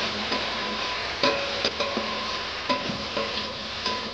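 Spoon scraping and stirring tengra fish chorchori with spices and chili powder in a pan, a steady low sizzle broken by several sharp clinks and scrapes against the metal, close and alone with no talk.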